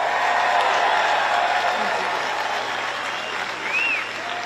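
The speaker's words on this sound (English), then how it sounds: "can we all give a big round of applause to the governor?" A rally crowd applauds the governor at a campaign event in Michigan, a dense, loud wash of clapping and cheering throughout, with a faint whistle rising near the end.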